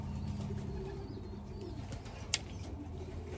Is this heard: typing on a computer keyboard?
no